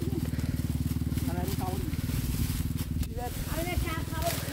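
A small motorcycle engine buzzes steadily nearby as it passes, with faint chirping and scraping sounds mixed in.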